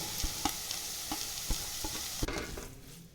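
Paneer is sautéed with masala in a pan, giving a soft, continuous sizzle broken by periodic spatula scrapes and taps as it is stirred, quiet and close with no voices.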